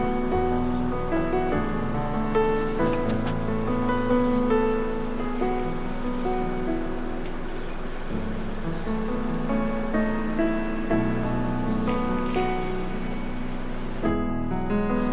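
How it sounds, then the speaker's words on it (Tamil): Egg batter sizzles and crackles in hot oil in a paniyaram pan, a steady, dense frying hiss that continues close up without pause and without talk. "இப்போ நம்ம முட்டையை எடுத்து ஊற்றிடலாம்."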